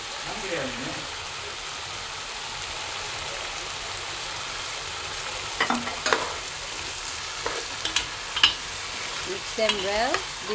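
Soaked basmati rice stirred in a pot over a steady hiss of heat, with scraping spoon strokes clustering late in the passage; faint curving tones hint at a voice in the background.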